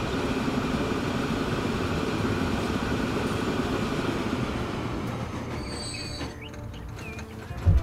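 A train runs steadily in the Transport Fever game, a continuous rumbling roll with wheel noise and faint high squeals near the end, ending in a brief louder knock.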